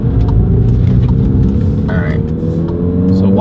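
A VW MK7 GTI with an upgraded intercooler accelerates on the road, its engine giving a loud, steady, close rumble that climbs slightly in pitch as it pulls.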